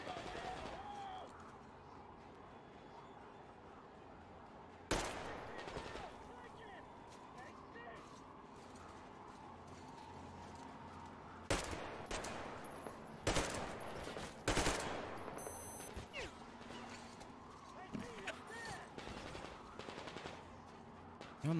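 Gunfire in the Metro Exodus video game, with scattered bursts and sharp shots over a steady low background. The shots are fairly faint and come under a player's frequent talking.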